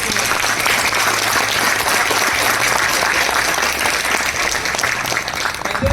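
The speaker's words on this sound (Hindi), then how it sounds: "तालियां बजनी चाहिए।" Steady, dense applause from a crowd, loud and continuous throughout, with a hint of voices mixed in.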